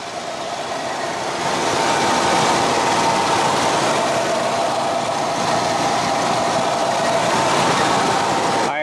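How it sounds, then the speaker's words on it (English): A Dodge Ram 2500 V10 engine runs at a steady idle with a slight exhaust leak, giving a continuous close, loud rumble with a faint ticking edge and no talk over it. "It's got a little bit of an exhaust leak, but hey, what do you expect from a V10, right?"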